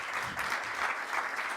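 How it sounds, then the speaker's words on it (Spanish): Listeners at a panel on contemporary sound and arts applaud a speaker, a short, moderately loud spell of steady clapping. "un fuerte aplauso a Gerardo"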